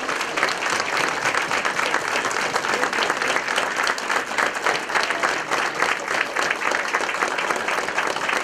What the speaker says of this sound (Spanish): Si quieren se pueden poner de pie y démosle un gran aplauso